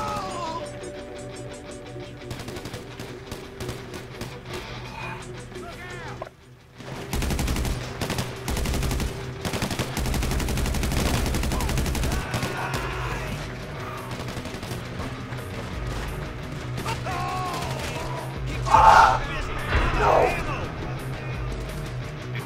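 Sustained gunfire in GTA V, with bursts of rapid, machine-gun-like shots running for a long stretch under ongoing game noise and voices.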